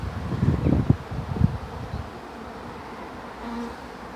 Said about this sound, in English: It's almost as if there's another swarm landing here at the same time